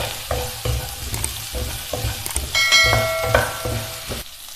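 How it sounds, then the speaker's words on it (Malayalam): Okra sautéing in a pan, a steady close sizzle broken by repeated scraping stir strokes and a few bright metallic clinks of a utensil against the pan. "വെണ്ടയ്ക്കയുടെ തിക്നെസ് മാറുന്നതിന് വേണ്ടിയിട്ട് ഒരു 2 മിനിറ്റ് വഴറ്റിയെടുക്കാം."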